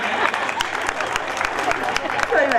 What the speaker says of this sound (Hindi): तालियां बजा दीजिए भाई